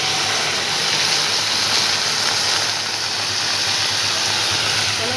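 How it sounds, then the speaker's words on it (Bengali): Water poured into a hot pan of spinach and fried potatoes sets off a loud, even hissing sizzle that holds steady throughout, with no talk. "এবার একটু সামান্য জল দিয়ে দেবো।"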